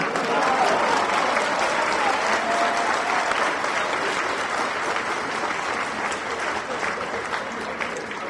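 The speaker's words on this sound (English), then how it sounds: "How about a round of applause for these GMs," Sustained applause from a banquet crowd at a gaming convention, steady clapping throughout with a dense, even texture that fades slightly toward the end.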